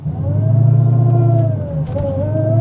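A supercharged V8 in a Dodge Hellcat revs and holds, with a steady supercharger whine riding over the deep rumble before dropping briefly and climbing again.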